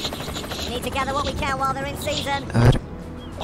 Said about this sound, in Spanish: Si tocas la M, baja el helicóptero